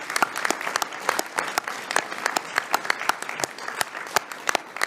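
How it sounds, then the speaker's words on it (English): A round of applause at a university board of visitors health system session, scattered but steady clapping from a modest group in a meeting room, with individual sharp claps standing out throughout. "I think that deserves a round of applause as well."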